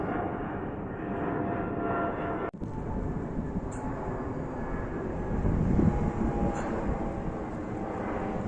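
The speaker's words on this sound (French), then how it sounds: "Encore un gros gabarit qui nous survole à cette hauteur, avec un bruit" A large airliner, a wide-body jet such as a Boeing 777, passes low overhead above eastern Brussels, a loud continuous roar of jet engines that swells and holds for several seconds with no talk.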